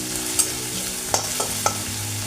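Crushed garlic frying in a pan for an egg garlic kasha dish, a steady close sizzle with a few sharp clinks from stirring and no talking.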